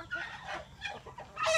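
Hens clucking in a backyard poultry pen while feeding, a few soft, uneven calls alone at close range with a sharper cluck near the end.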